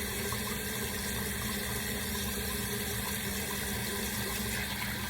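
Tap water runs continuously while hair is being washed, a steady close rushing hiss with a low hum beneath and no speech.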